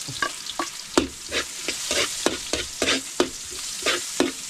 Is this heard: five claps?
no